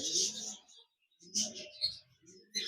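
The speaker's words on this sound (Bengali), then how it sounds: "চমৎকার এক পেয়ার গ্রেপ পাটেল পাখি রয়েছে" A breeding pair of grape pastel pet birds gives short, bright chirps in two or three separate bursts with quiet gaps between, close by and fairly soft.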